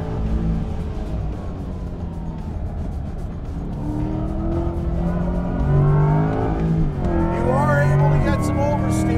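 A Corvette E-Ray hybrid all-wheel-drive sports car pushed into oversteer on throttle, engine droning and rising with tire squeal toward the end, while someone talks over it.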